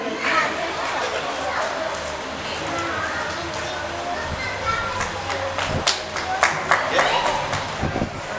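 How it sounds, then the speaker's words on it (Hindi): A crowd claps at a housing society's annual general meeting while a woman is honoured with a garland. The clapping is a steady mid-distance patter that grows sharper in its second half, with voices talking over it throughout. "तालियां बजाइए सुमन जी का।"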